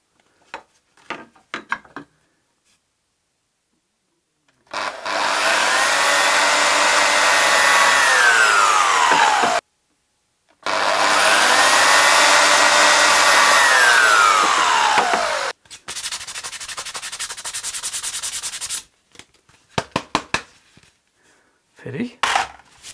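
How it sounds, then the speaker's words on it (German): A power drill fitted with a 4.2 mm bit bores a hole while a canoe camera mount is being made: two sustained whining runs of about five seconds each, separated by a short pause, with clicks and handling noise around them. "Kann hier ruhig ein bisschen größer bohren, aber der 4-2er reicht auch aus."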